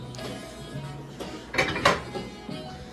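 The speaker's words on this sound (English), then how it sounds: "Put this pan in that pan." One metal baking pan is set inside another for a family quiche, giving a few close metallic scrapes and clanks, with two sharper clanks in the middle as the pans meet.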